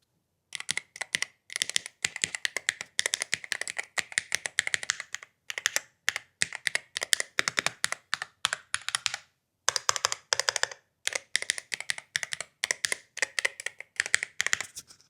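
Keys clack on an IROK MG75 Pro Hall Effect mechanical gaming keyboard, typed close to the mic in rapid, crisp bursts with brief pauses between runs.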